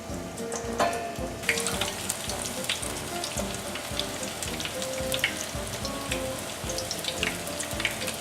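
Battered onion rings in an egg, flour, baking powder, salt and milk batter are dropped into hot oil and fry with a dense, steady crackling sizzle, close and continuous, with no voices.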